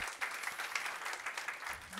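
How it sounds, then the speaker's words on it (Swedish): Brief, fairly quiet audience applause at a Stockholm investor-day presentation, a light patter of scattered claps lasting a couple of seconds. "En applåd."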